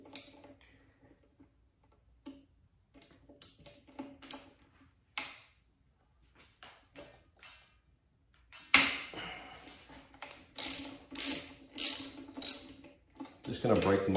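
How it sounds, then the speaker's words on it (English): A socket wrench ratchets on motorcycle bolts of an Indian Scout Bobber, with scattered single clicks, then rapid close, loud runs of ratcheting clicks in the second half. "so just gonna use the equivalent on a socket"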